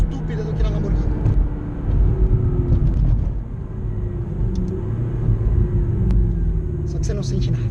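A McLaren 650S sports car accelerates hard with a loud, steady engine roar and low rumble filling the cabin, while a voice talks over it throughout.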